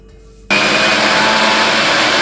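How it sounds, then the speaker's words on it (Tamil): A mixer grinder whirs loudly and steadily for under two seconds, grinding tomato, green chili and coriander, starting abruptly and stopping just as suddenly. "முதல்ல மிக்சி ஜாரில் தக்காளி, பச்சை மிளகாய், கொத்தமல்லி போட்டு அரைச்சி எடுத்துக்கலாம்."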